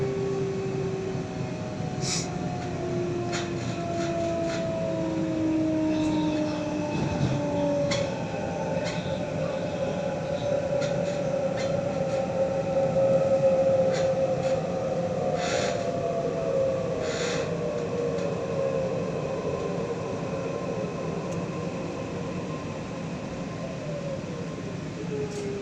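Sydney T8 line train pulling into East Hills station: a steady interior rumble with descending motor whine as it slows, scattered clicks and a faint brake squeal, heard from inside the carriage.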